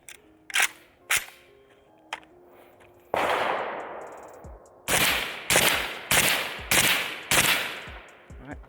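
A suppressed Pioneer Arms 556 sporter underfolder AK rifle fired with its stock folded: a few sharp metallic clacks, then a run of loud, evenly spaced shots, each a hard crack with a short decaying tail, close by and without speech.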